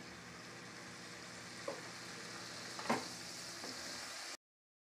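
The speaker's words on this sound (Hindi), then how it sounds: "पनीर को फ्राई करने के लिए कम से कम 8 से 10 मिनट लगती है" Paneer cubes frying in ghee in a kadhai over a medium flame, a quiet, steady sizzle broken by a few soft stirring scrapes and one brighter spatter, then cutting off abruptly.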